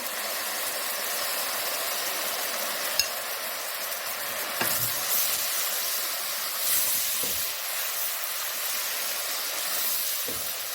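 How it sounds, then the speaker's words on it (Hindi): Mashed tomato goes into a pan of golden-brown fried onions for moong dal mangochiyan, giving a steady, close sizzling hiss with a few soft stirring knocks throughout and no talking. "इस टाइम पे मैं इसमें डाल रही हूँ 1 बड़ा टमाटर जो मैंने तकरीबन मैश किया हुआ है"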